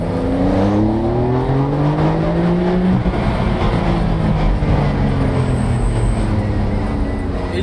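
Porsche 911 Carrera 4S Cabriolet, a 450 hp convertible, revving loudly nearby with rising and falling engine tones, a strong throttle blip, then a steady idle-like drone.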